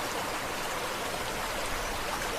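Water rushing through a miniature canal after rain, a steady dense wash of flowing noise with no breaks, close and continuous.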